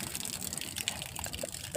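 Floodwater flows in, a faint, continuous rushing and gurgling of water with no clear pauses and no talking.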